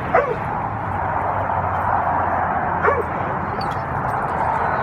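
Dogs barking and yipping at a distance in a dog park over a steady, loud background hum, with a couple of sharper yelps standing out.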